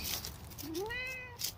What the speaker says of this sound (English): Here comes my kitty cat.